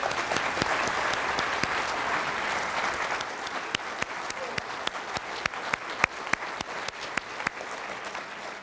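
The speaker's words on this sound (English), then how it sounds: "let's give them a round of applause for their hard work" Audience applause for trained first responders, steady crowd clapping that grows into sharp, more distinct individual claps toward the end, with no speech over it.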